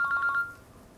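A mobile phone rings during a tyre presentation in a quiet room, giving a quick series of warbling electronic tones that stop after a moment.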